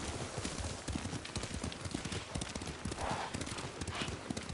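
Horse hooves in the video game Ghost of Tsushima, a quick steady clip-clop of a ridden horse at a trot or canter, close and continuous over wind-like ambience.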